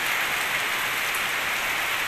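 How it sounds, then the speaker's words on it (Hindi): Heavy monsoon-style rain pours down in a dense, steady hiss that fills the space evenly, loud and continuous with no voices over it. "इस तरफ तो जनाब धुआंधार बारिश हो रही है"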